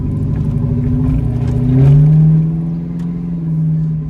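A 1985 Oldsmobile Cutlass with a 5.3 V8 and 4L60 transmission revs up once and settles back to a steady, throaty idle. It stays loud and close, with no talking.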